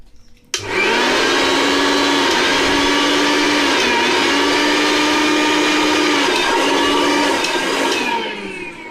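A Billion MG101 mixer grinder starts with a click and runs at a loud, steady high-pitched whine with whirring motor harmonics for several seconds, then slows as it is switched off.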